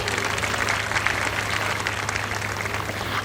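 An audience at a school annual day welcoming the chief guest with applause, a dense, steady wash of clapping from many hands that holds evenly throughout with no voices over it.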